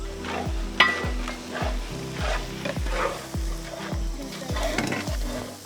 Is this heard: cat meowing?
no